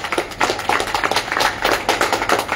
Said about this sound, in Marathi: प्रचंड टाळ्यांच्या कडकडाटात यांचं धैर्य वाढवा